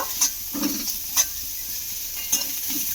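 Cauliflower pieces frying with onion in a pan, giving a soft continuous sizzle broken by three sharp stirring clinks and scrapes nearby, with no voices.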